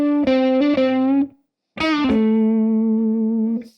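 An electric guitar plays through a Supro Delegate Custom amp with no pedals or reverb: a few picked notes, then a long held note that sustains for nearly two seconds with a bright, harmonically rich tone before cutting off.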